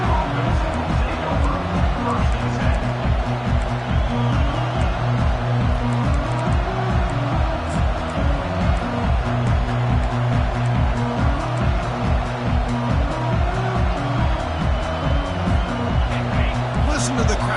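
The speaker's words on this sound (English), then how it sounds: "Listen to the crowd energy here in the early going." A large stadium crowd at a football game roars steadily with rhythmic pulsing beneath, while a commentator talks over the noise throughout.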